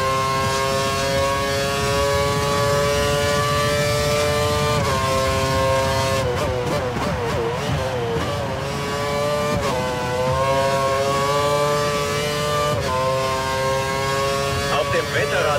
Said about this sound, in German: dein Hintermann fährt jetzt mit voller Drehzahl